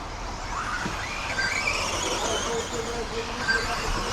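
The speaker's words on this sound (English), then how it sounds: "These little cars in close proximity running at this speed" Team Associated RC10B74.2 4WD radio-controlled buggies race in close proximity, their small electric motors whining and tyres squealing in a continuous mid-distance buzz under a commentating voice.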